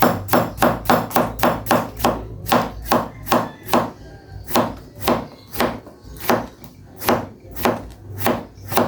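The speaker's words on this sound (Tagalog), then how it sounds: "Slice lang din natin ito kaili ng good size para magdrama ang ating inihaw." A knife cuts through pork on a wooden board for grilled inihaw, giving a steady run of sharp, close chops in quick succession, then slower evenly spaced strokes, with no talking.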